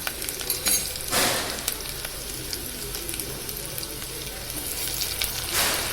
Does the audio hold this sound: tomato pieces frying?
yes